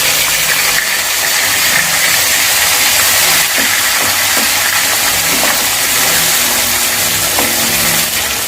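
Ground onion and green chili paste frying in oil over a low gas flame, a loud, steady, close hiss of sizzling that continues unbroken throughout.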